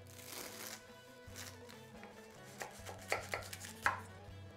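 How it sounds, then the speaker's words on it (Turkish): A knife cuts a crunchy burma baklava pastry in half, a faint, close crackling of flaky layers breaking in a few separate bursts over a low background hum. "Önce ortadan ikiye kesiyorum. Çıtırtıyı duymanızı istiyorum"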